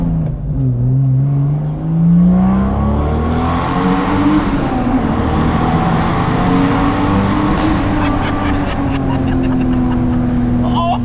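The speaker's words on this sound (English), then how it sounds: "I'm in love with the 2JZ and the sounds it makes." A 2JZ-engined Mustang GT revs hard and loud, climbing and falling in pitch with a deep, throaty roar, then sputters and crackles near the end.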